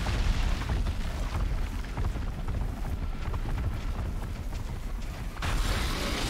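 Dense, continuous rumbling blasts and thuds from mecha-dinosaurs exploding in a video game, a loud unbroken barrage with a fresh burst near the end.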